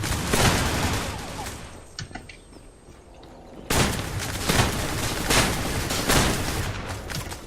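Shotgun fire in the online shooter game Zula, with rapid bursts of loud gunshots and rattling fire, a brief lull in the middle, then more dense shooting.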